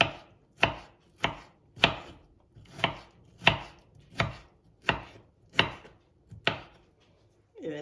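A knife chops cherry tomatoes steadily on a cutting board, about ten crisp, evenly spaced strikes, close up and alone.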